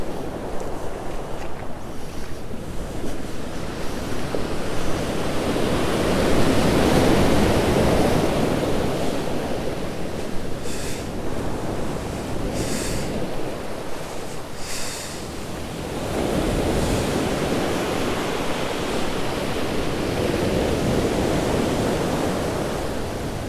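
Sea waves wash onto a stony beach in slow, broad surges of rushing surf that swell and recede twice, with a faint rattle of stones and no talk.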